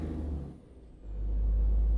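Air brake hiss from a MAN truck in Euro Truck Simulator 2, with a loud low engine rumble that dips briefly and then swells back up steadily, and no voices.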